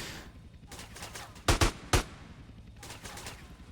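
Combat helicopters in GTA San Andreas fire a few sharp, loud gunshots in a quick cluster, followed by softer, distant shots over faint game background noise.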